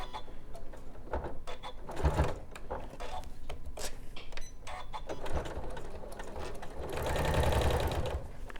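Moxie long arm quilter top stitching at a 3.5 stitch length, a steady mechanical whir with rapid needle clatter that swells louder near the end, with no talking over it.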